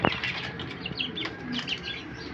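Pigeons flap their wings in a sudden burst right at the start, followed by lighter fluttering and a few soft chirps, heard close and moderately loud.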